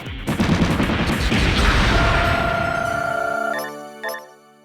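Missile fire from a sunflower-like missile flower enemy in Metal Max on PS2, a loud, sustained rattling barrage lasting a few seconds that ends with a couple of ringing tonal hits.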